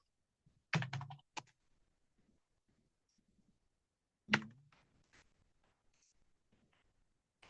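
Quick clattering keystrokes on a computer keyboard come in two close bursts, the first a dense flurry and the second shorter, with sparse faint taps in between in a quiet room.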